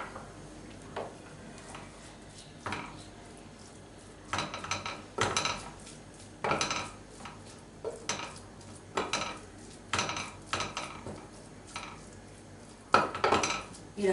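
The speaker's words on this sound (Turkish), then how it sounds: "Kıymamızı tavamıza koyuyoruz." Fatty ground meat goes into a dry pan and gets stirred, with repeated metallic scrapes and clanks of a utensil against the pan in irregular bursts over a faint background sizzle.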